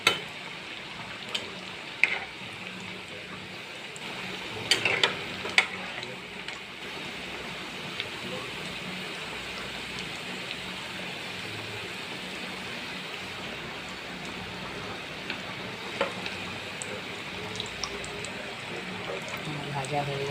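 Raw banana fish-style kobiraji fries in hot oil, giving a soft, continuous sizzling hiss with occasional sharper crackles and clinks.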